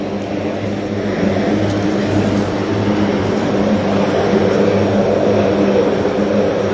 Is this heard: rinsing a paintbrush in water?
no